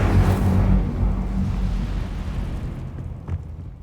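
Incendio fire spell cast in Hogwarts Legacy, a loud whooshing burst of flame with a deep rumbling roar that swells at once and then slowly fades away, with a faint crackle near the end.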